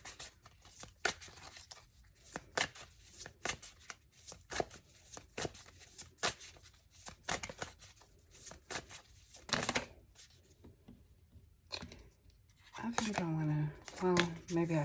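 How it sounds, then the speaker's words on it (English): Tarot cards being handled and shuffled, with papery riffles and snaps scattered across the passage amid quiet room sound, and a voice speaking toward the end. "I'll try to get 4 cards from this deck as well"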